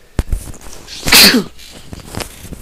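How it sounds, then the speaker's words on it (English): One loud, close sneeze bursts out sharply in the middle, framed by faint clicks and small breathy sounds, with no speech. "Excuse me, I just sneezed."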